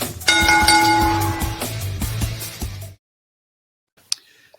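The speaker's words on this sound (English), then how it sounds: "Now let's ring the bell and get this match started!" A match-starting bell at a WTC tournament quarterfinal rings loudly with a sustained metallic tone that decays over a couple of seconds, then cuts to near silence with a few faint clicks.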